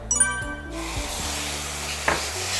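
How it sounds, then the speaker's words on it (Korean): Aged beef stir-frying over medium heat in an oiled hot pan, a steady close sizzle that swells after a brief clink at the start, with one louder scrape partway through. "달군 팬에 기름을 둘러서 숙성시킨 소고기를 넣고 중불로 볶아줍니다."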